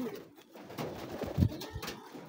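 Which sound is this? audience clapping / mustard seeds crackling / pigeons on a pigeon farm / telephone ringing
pigeons on a pigeon farm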